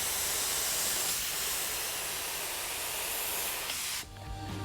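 A paint spray gun in a body shop sprays in a continuous loud, broad hiss for about four seconds, then cuts off abruptly, leaving a quieter tonal hum.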